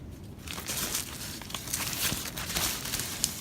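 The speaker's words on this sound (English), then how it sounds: "Now I have this white material. It's like a polyester, like plastic type deal." White polyester, plastic-like fabric crinkles and rustles as it is handled up close, a steady crackly scrunching that runs throughout with small sharp crackles.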